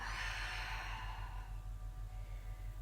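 Soft breathy exhale during a Pilates spinal mobilisation on a mat, a long airy sigh that fades out over a couple of seconds with low steady background hum beneath.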